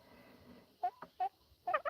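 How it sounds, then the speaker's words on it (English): Turkeys on a homestead give a few short, clear gobbling calls, first as separate bursts and then as a quicker cluster near the end, over quiet background. "I love listening to turkeys, too. They're very talkative."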